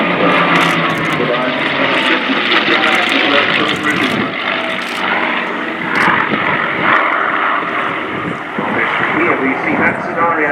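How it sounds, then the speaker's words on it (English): Vintage propeller fighters, a Hispano Buchón and a Spitfire, roar past during a Battle of Britain anniversary flypast at an air show; a loud, continuous engine drone with shifting pitch runs throughout, with people talking over it. "as for the moment, Buchón is on the tail of the Spitfire"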